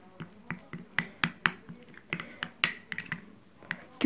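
A spoon clinks and scrapes against a bowl while yogurt is mixed, with a quick series of sharp taps, some brighter and glassy, spread over a few seconds at close range.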